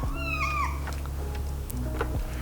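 A black cat meows in a string of rising, drawn-out cries close by, steady background hum beneath.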